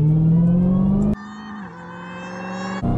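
A supercharged Dodge Demon engine revs loud and close, climbing in pitch before abruptly dropping to a lower, steady drone, with no voices.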